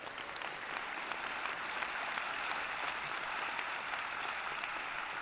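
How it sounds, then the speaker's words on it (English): Audience applause at a SUNY Oswego commencement ceremony, a steady, dense patter of many hands clapping in a large hall, sustained evenly throughout at a moderate distance with no speech over it. "Let's have a round of applause for them as well."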